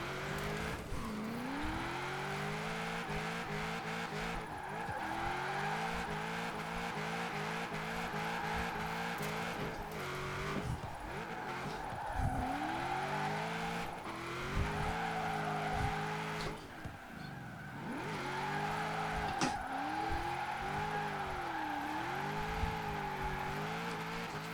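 An Impala SS drifts on a mountain road in Forza Horizon 4, its engine revving and surging while the tires squeal in long sliding bursts through repeated corners, close and loud.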